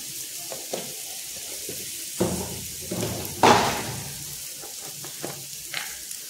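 Kokum, turmeric and chili powder are sautéed in a pan with a quiet steady sizzle, broken by a few louder clattering knocks and stirring strokes.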